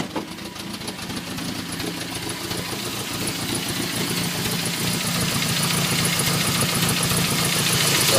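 An engine idles up close with a steady, slightly uneven chugging rumble that grows gradually louder over eight seconds, with no talk.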